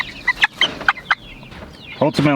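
A few short clucking calls from a chicken, then a louder, drawn-out gobbling squawk near the end, close by.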